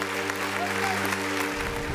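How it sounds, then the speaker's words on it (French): An audience claps in a steady wash of applause while a voice carries over the first part, then the clapping continues alone. "Applaudissez pour le DP s'il vous plaît"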